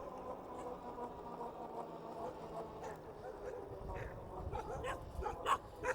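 Puppies bark and yip in short, scattered bursts, fairly faint and at a distance, over a soft background hum that grows louder toward the end.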